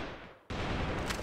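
A grenade blast from a Tomahawk mech in the shooter game Nizhan (逆战) hits suddenly after a brief lull, then becomes a dense, sustained roar of explosive noise.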